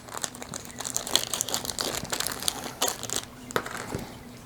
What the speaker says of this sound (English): So they want us to take the tires out. And all these are in Ziploc bags too in this model